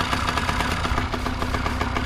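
A small 50cc motorcycle engine with a stock exhaust runs steadily at idle, a close, continuous buzzing rumble with a quick, even pulse and no voices.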